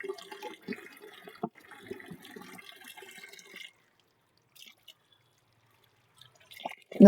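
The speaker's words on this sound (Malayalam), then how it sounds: "ഈ ആയുധങ്ങളൊക്കെ എല്ലാം കഴുകി വെച്ചാല്" Tap water runs and splashes steadily while paint brushes and painting tools are rinsed after a DIY concrete wall painting job. It stops partway through, leaving near silence with a few faint clinks, then a louder burst of activity at the end.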